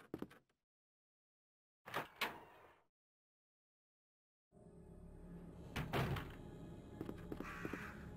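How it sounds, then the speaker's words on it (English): Crows cawing in the Resident Evil 2 video game, harsh calls arriving in scattered bursts, with a door-like thunk and silent gaps between quieter stretches. "hear the birds already"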